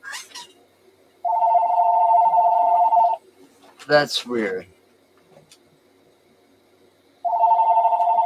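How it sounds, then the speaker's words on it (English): A mobile phone rings in two bursts of a steady electronic ringtone, first for about two seconds and then again at the end, with brief talk in between. "Your phone's ringing."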